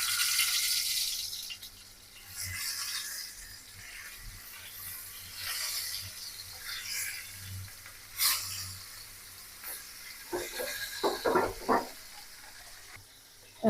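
Fish sizzles steadily in hot oil in a frying pan, a continuous soft hiss with occasional louder spits and crackles, close by, with no voices.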